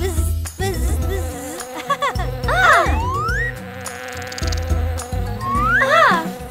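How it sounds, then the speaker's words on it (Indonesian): A buzzing bee sound in a children's song, rising and falling in wavering glides over a bouncy musical backing, loud and up front. "Ah! Ah! Lebah!"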